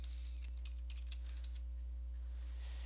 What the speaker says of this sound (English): we're going to type in services